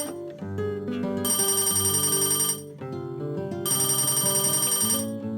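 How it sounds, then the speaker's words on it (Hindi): A phone ringtone plays two long bursts of bright electronic ringing separated by a pause, with a melodic backing tone throughout. "तभी गांव से उसके माँ का फोन"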